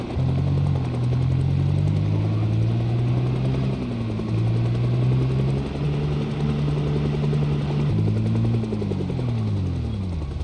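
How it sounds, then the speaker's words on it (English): Helicopter in the survival game Project Zomboid circling overhead, a loud steady rotor drone with a wavering pitch that dips and rises as it passes around, continuous throughout with no talking. "How long can one helicopter stay flying around one guy without noticing that they're drawing all the zombies to it?"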